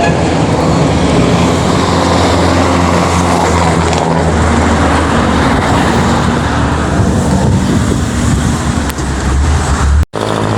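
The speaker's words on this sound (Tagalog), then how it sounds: "Ito mga idol, sakay na tayo ng jeep." A jeepney rides along a main road, with loud, continuous engine drone and road rumble throughout. A brief sharp dropout comes just before the end, and no one speaks.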